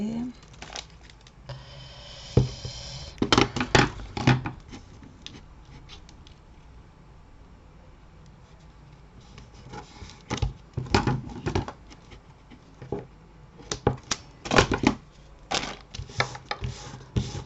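Double-sided sticky tape being peeled and pressed down in short crackling bursts, close by, with long quiet stretches between.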